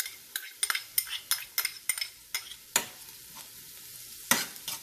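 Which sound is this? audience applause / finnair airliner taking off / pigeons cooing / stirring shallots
stirring shallots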